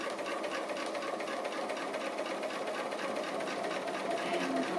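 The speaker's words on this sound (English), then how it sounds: "I'm doing free motion stitching. It's just a straight stitch, free motion around the edge," A sewing machine runs steadily through a free-motion straight stitch around the edge of an appliqué, giving a close, continuous rapid hum and needle chatter with no speech.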